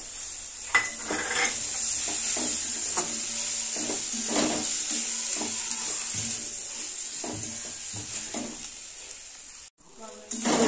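Grated radish and shrimp sizzle steadily in oil in a pan, with scattered scrapes and clinks of a spatula stirring through the fry; fresh coriander leaves are added near the end, and a brief dip interrupts the hiss toward the close.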